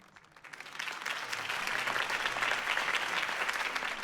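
A crowd at a political campaign rally in a Batman video game applauds after a Harvey Dent speech, with clapping swelling in over the first second and then holding steady and full.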